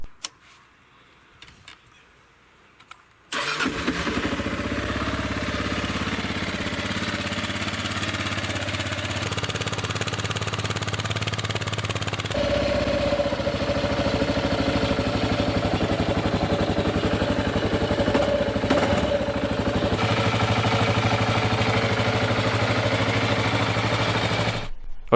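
Kawasaki KLR650 motorcycle engine starts after a few seconds of quiet handling noise, then runs steadily at a close, even idle with a slight shift in tone partway through.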